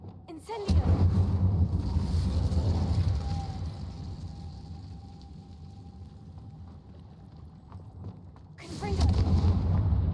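A fire spell cast in Hogwarts Legacy bursts out loudly and roars steadily for several seconds, then tails off before a second loud whoosh near the end.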